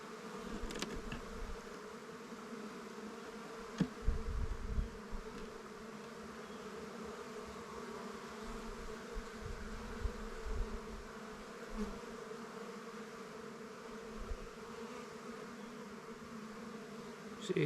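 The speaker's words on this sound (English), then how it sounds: "Looks like some younger bees" Dense, continuous buzzing of many honey bees inside a hive, with a few soft knocks and handling sounds over the steady hum.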